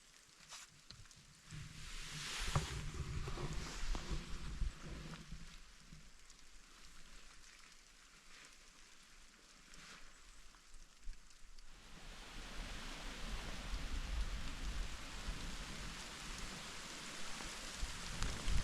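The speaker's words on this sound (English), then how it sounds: "Got a bloody thunderstorm going over." Steady rain from a passing thunderstorm hisses over a wooded hunting area in moose country, a broad even wash that swells slightly in the later half, with no voices.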